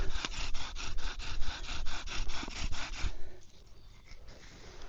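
Bow drill with a paracord bowstring burning in a spindle: fast, steady back-and-forth rubbing and sawing strokes of wood on wood, close up, then slowing into quieter friction.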